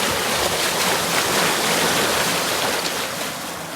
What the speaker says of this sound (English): Water going down that one.